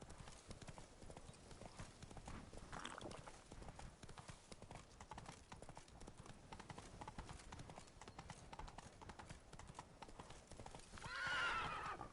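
Roach, the horse in the video game The Witcher 3, gallops with a fast, steady drum of hooves that runs throughout, and near the end a loud whinny rises over the hoofbeats.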